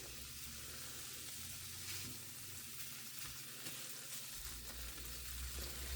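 Hamburger meat fries in a pan with a steady, close sizzle and crackle, and a low rumble underneath. No one speaks.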